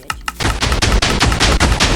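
A Minecraft TNT cannon launching fireworks fires a rapid volley of loud booming blasts in a steady burst, densely packed and up close, with no speech.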